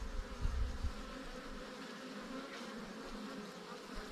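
A swarm of honeybees buzzes around a hive in a continuous dense drone, with a few low thumps near the start and no talk.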